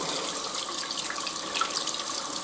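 Tap water runs steadily over a makeup brush held bristles-down under the faucet, making a close, continuous splashing hiss.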